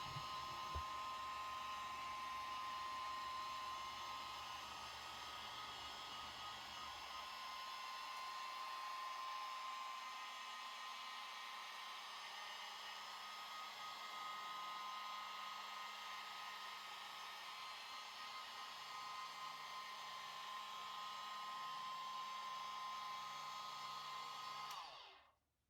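A rotary polisher runs on the paint of a classic Ferrari, giving a steady close motor whine with a high tone that stays even for about twenty-five seconds. It then spins down and stops abruptly.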